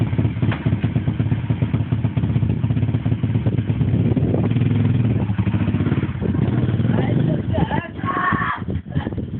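A pit bike engine revs and idles nearby, rising and falling with a clattery buzz, with voices briefly heard alongside it.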